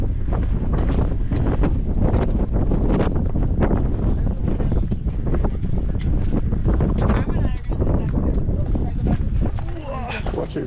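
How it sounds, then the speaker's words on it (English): Strong wind buffets the microphone on a narrow mountain trail in Glacier National Park, a loud continuous roar with gusty bursts, while a person talks over it. "Quite windy."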